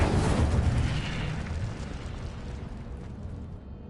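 A fire spell blast in a Harry Potter game, heard as a loud, roaring burst that starts strong and slowly fades away, alone without talk.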